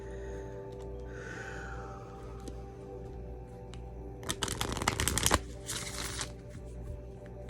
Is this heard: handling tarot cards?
yes